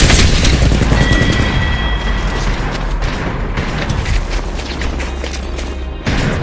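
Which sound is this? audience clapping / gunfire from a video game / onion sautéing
gunfire from a video game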